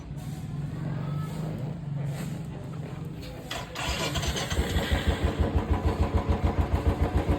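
A motorbike is started: a starter whirs, then the engine catches and settles into a fast, rhythmic pulsing idle close by, loud and alone.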